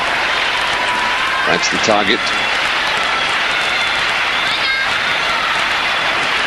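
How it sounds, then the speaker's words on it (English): Spanish crowd at the rhythmic gymnastics European Championships in Granada roaring with broad, sustained cheering and whistling that fills the hall, with a commentator's voice briefly heard over it. "Here the crowd are starting to go crazy already"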